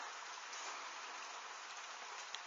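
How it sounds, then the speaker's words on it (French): Steady, dense rain hissing without a break, a heavy downpour close by during a thunderstorm in Tour-en-Sologne, France, with no voices. "C'est vraiment une grosse pluie là."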